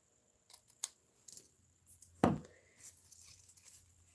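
Scissors make a few short snips through linen paper, one sharp cut standing out among lighter clicks and rustles in a quiet room.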